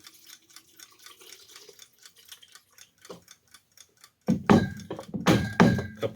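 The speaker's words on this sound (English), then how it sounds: "Pour in my fixer." Faint regular ticking, then a loud splashing pour of fixer into a black-and-white film developing tank that fills the last couple of seconds.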